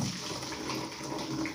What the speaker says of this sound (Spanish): Voy a echar el agua.